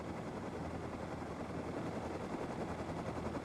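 A helicopter lifts off in the Rust survival video game, a dense, steady rotor and engine roar filling the whole stretch at constant loudness, with no speech.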